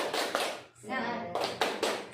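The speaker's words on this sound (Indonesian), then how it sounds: "Tepuk semangat" Rhythmic group clapping from an audience of women at a school event in Indonesia, short patterned bursts broken by a spoken voice in the middle.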